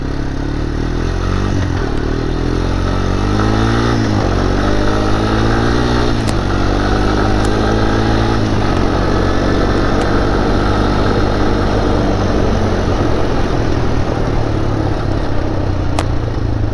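A Honda 250ex ATV engine runs steadily at a loud, close idle with a clattery mechanical chug, a few light revs and small clicks over the constant drone.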